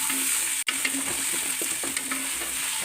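Coconut pieces frying in oil in a Kerala-style pork curry pan, a steady close sizzle with a sharp clack of a spoon early on and soft stirring after, no talk.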